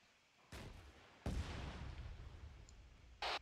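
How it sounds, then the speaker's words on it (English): A rocket launcher fired in Arma 3: a sharp launch blast followed by a louder booming impact with a rolling tail, then a brief late burst of another shot. "I'm shooting a rocket in it."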